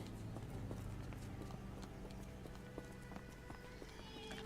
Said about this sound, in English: Hello, horsey. Cute little horsey.